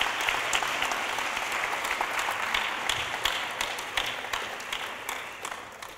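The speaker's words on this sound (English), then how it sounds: "Please join us in applauding this year's recipient of the Eisenberg Shem Tov Award," A synagogue congregation applauds the recipient of the Eisenberg Shem Tov Award at a graduating seniors Shabbat service, with steady moderate clapping where individual sharp hand claps stand out.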